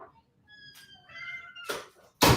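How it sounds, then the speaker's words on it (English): A house cat gives a couple of short, close meows indoors, followed by brief loud rustling bursts. "Oh, is that your invasive cat?"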